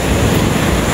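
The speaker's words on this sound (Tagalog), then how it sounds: "Narinig nyo naman yung alon." Ocean surf rolling onto the sand at Sabang Beach in Baler, Aurora, a steady loud wash of breaking waves with wind rumble across the microphone and no pauses.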